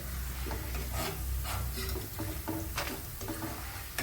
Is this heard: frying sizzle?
yes